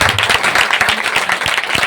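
A church congregation claps in praise during worship, a dense burst of hand claps with a rhythmic pulse, fairly loud and close.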